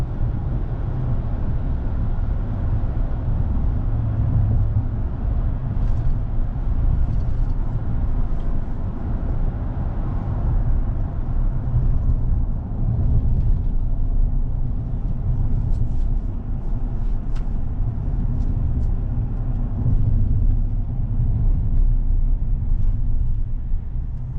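A steady, muffled low rumble of a 2020 GMC Sierra 1500 pickup truck being driven, heard from inside the cabin with road noise, constant throughout with no speech.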